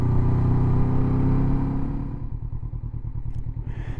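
Honda CB500X motorcycle engine rumbling loud and close, steady at first, then easing into a slower pulsing idle as the ride winds down.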